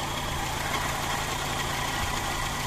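A Land Rover engine idles at a steady, fairly high speed, giving an even, continuous rumble that stays close and constant throughout, with no talking.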